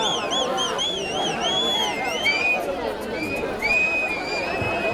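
A crowd at a vadamadu bull-taming event in Sirukai Pappangottai cheers and blows shrill, wavering whistles over a steady roar of chatter, with voices throughout.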